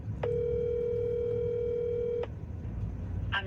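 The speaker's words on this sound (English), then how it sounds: "Let's give them a call." An outgoing telephone call rings on the line: one long, steady electronic tone lasting about two seconds, then a pause with faint background noise.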